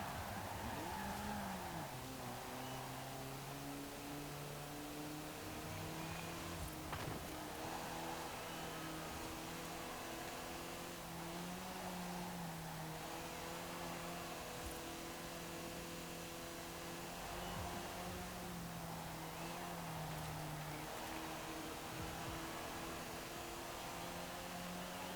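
A car in Forza Horizon 4 runs a race lap with an automatic gearbox, its engine droning and changing pitch as it shifts through gears, steady and continuous with no talk over it.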